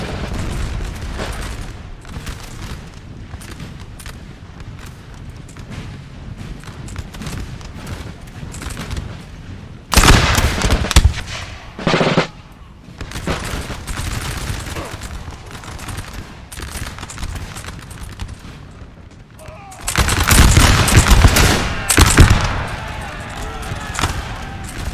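Musket volleys from infantry in a Napoleon: Total War multiplayer battle, ragged crackling fusillades rolling continuously with heavier massed bursts swelling twice, loud and dense, while a commentator talks over it.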